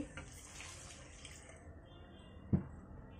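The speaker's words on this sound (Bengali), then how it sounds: "এখন আমি এর ভিতরে দিয়ে দিব প্রয়োজন মতো পানি।" Water runs softly from a bowl into a coconut paste and prawn mixture in a pan, a faint, steady pouring that ends with a single small knock of the bowl.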